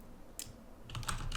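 A few computer keyboard keystrokes typing feedback text, brief scattered clicks that grow into a quicker burst near the end, close and fairly quiet with no speech.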